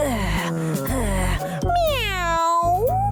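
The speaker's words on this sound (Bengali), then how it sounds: "Miao Miao Miao" A cartoon cat meows repeatedly in a drawn-out, wavering, whiny voice, each call sliding up and down in pitch. A lively cartoon background score plays loudly underneath the cat's cries.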